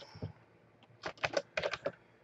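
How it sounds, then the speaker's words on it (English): Two short bursts of quick keystrokes on a computer keyboard, close and fairly quiet, after a brief near-silent lead-in, with no voices. "So you just type what you want."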